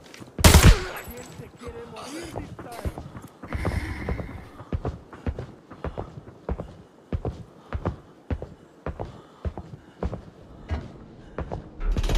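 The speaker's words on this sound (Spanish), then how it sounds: "yo escuché un disparo" Gunfire in the shooter video game Arena Breakout, a steady series of sharp distant-sounding shots in bursts and singles, spread across the clip and occasionally heard under quiet talk.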